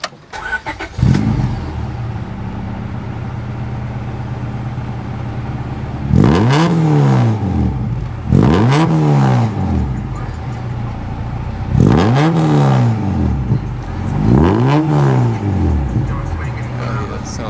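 A right-hand-drive 1998 Acura Integra Type R with a full Spoon catalog build revs outdoors, a steady idle broken by four loud rising-and-falling revs spaced a couple of seconds apart.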